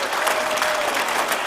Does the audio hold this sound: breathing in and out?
no